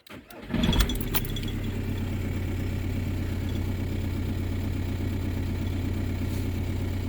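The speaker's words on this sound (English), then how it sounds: "grab the keys, put them in the ignition." Car keys jangle briefly as they go into the ignition of a car with faulty wiring, then the engine cranks, catches and settles into a steady, close idle that runs on without talk.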